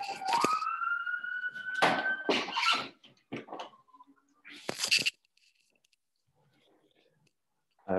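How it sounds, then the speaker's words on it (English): A faint siren outside an open window wails in the opening seconds beneath a person talking close by, then the room falls quiet. "Can you hear that siren?"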